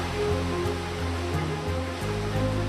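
A jungle waterfall roars with a steady, dense, broadband rush of falling water, loud and continuous without pause.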